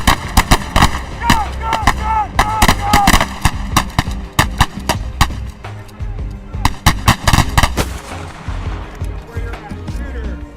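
Shotgun fired in quick close bursts during a dynamic shotgun combat reload drill, loud sharp reports clustered in rapid pairs and groups over about eight seconds, with the shooting tapering and an instructor's voice heard between blasts.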